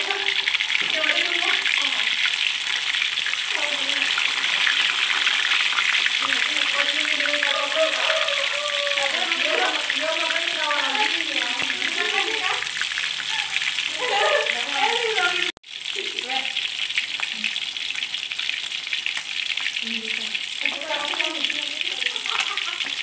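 Round scad fish fry in hot oil in a wok, giving a steady, bright, continuous sizzle like rushing water throughout, while a person talks over it.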